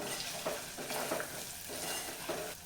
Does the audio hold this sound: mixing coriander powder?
yes